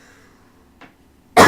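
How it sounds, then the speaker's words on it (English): One person coughs once, sharp and close, at the very end, after a faint throat sound and near silence. "Sorry, I need to cough."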